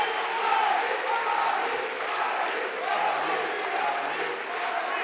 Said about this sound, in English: A standing ovation from the crowd, a standing ovation from Mullah Nazar.